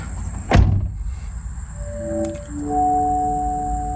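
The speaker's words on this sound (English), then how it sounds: "We'll shut the door here." A single solid thunk as the driver's door of a 2022 Honda Civic Si shuts close by, followed a moment later by soft electronic chime tones from the cabin.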